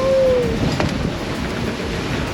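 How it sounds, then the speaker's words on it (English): Wind and rough water at sea on a sailing passage from Aruba to Curaçao, with big waves hitting the boat head on: a steady broadband rush of gusty wind and sloshing water, close and fairly loud, with no voices. "We got some big waves head on."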